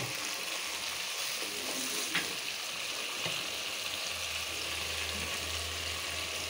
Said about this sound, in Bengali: মাছটা একটু কষানো হবে